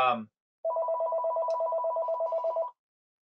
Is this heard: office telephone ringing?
yes